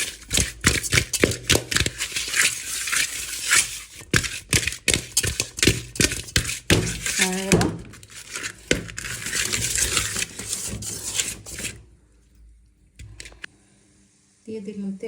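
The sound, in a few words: mixing hilsa fish with turmeric, chili and salt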